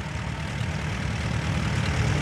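A restored Allis Chalmers tractor runs at a steady, low, rumbling idle with no talking, a thick continuous engine drone that grows slightly louder toward the end.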